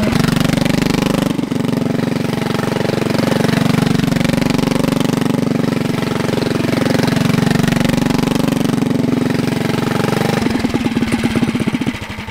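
A mini trike engine runs steadily under throttle, a loud, close, buzzing drone that holds for most of the time, then drops to a lumpy, pulsing idle near the end.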